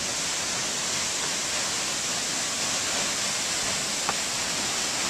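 A waterfall on a forest hiking trail near Boquete, Panama gives off a steady, broadband rushing roar that holds even and unbroken, with no voices.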